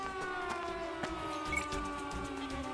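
A police car siren wails steadily and loudly in the video game Contraband Police, with rising and falling tones and a few mechanical clunks underneath.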